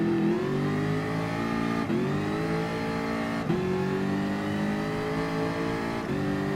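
Race car engine in Gran Turismo Sport revving hard at launch, loud and close, with three rising pulls broken by brief dips as the revs drop and climb again, steady throughout with no talk.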